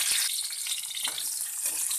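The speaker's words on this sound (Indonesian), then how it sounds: "kita goreng kunyitnya, kemiri, lengkuas, bawang putih, bawang merah." Turmeric, candlenut, galangal, garlic and shallots fry in hot oil, producing a steady, dense, close sizzling hiss that continues without pause and without talk.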